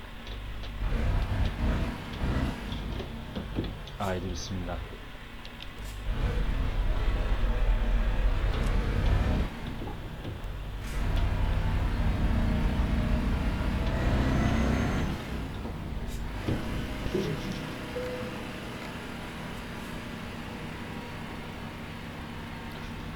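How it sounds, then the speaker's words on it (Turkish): Scania truck in Euro Truck Simulator 2 with the ProMods map set in Northern Cyprus, its engine rumbling steadily and swelling as it pulls away, with an air-brake hiss and a short spoken phrase near the start. "Çok beğendiğim bir arabada Scania'da hemen şöyle ufaktan arabayı çalıştırıp yolculuğumuza başlayalım"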